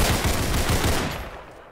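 Gunfire in the Roblox shooter game Criminality: a loud burst of rapid automatic shots lasting about a second, then fading into a short decaying tail, with no talking.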